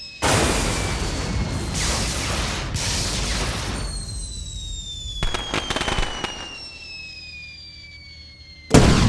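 Bombs falling and exploding in LittleBigPlanet 2 on PS3, several loud booming bursts in close succession with long crackling decays, a sharp whistling tone overhead, then a final loud blast at the end.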